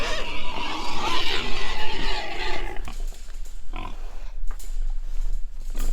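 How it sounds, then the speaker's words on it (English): Pigs on a homestead grunt and squeal loudly and close by in a busy, noisy jumble. The sound eases off partway through, leaving scattered grunts and outdoor noise. "Okay, so pigs are doing great."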